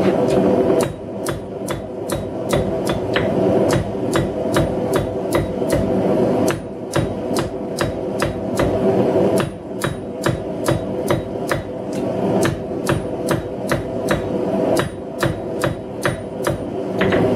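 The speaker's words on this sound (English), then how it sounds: "I'll try it with the cross peen." A blacksmith hand-forges hot steel with the cross peen of a hammer, striking sharp, loud, evenly spaced blows in quick runs broken by short pauses. The ringing impacts are heard alone, with no talking.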